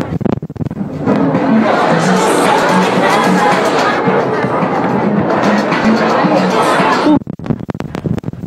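Fans roar and cheer for actor Huang Jingyu at a fashion magazine event, a dense, steady crowd din lasting several seconds before breaking off abruptly, with voices mixed in.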